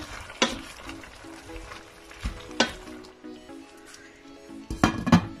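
Parsley and salt being stirred through tomato in a frying pan, with a soft sizzle underneath and several clinks of a utensil against the pan, spaced irregularly and louder near the end.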